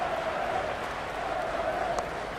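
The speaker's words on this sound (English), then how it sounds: "Will you listen to that crowd? They're loving this." Cricket stadium crowd during an Ashes Test roars and cheers after a boundary four, a dense, sustained wash of noise from a large distant crowd with no break.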